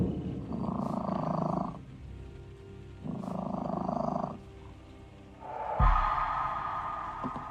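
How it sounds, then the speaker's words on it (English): In the modded Skyrim Nolvus game, a cat gives a low, rumbling purr in three sustained bursts, each lasting about a second or more, separated by short pauses. The final burst is louder and rougher, with faint ambient game sound between bursts. "That's a cat."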